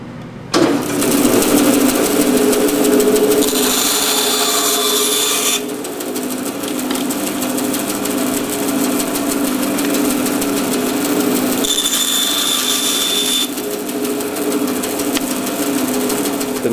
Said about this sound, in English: you need to first of all cut the handles off. And we'll do that on the bandsaw